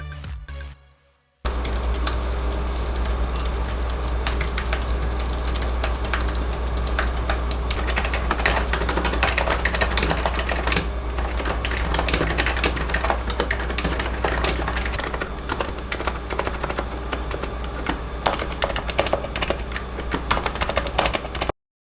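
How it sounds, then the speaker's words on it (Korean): Steady, fast typing on a Happy Hacking Pro2 Type-S keyboard, close-miked, with dense overlapping key strokes running without pause after a brief quiet start. "최대한 마이크를 키워서 해피해킹 프로2 타입 S를 타이핑하는 모습을 영상으로 담아 봤는데요"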